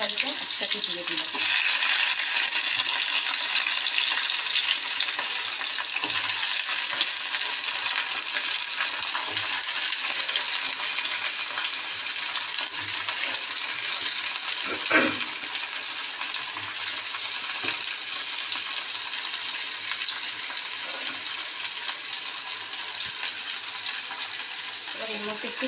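Rice tossed with panch phoron fries in a pan for a bitter dish, giving a steady loud hiss and sizzle that runs throughout, with faint clinks and scrapes now and then.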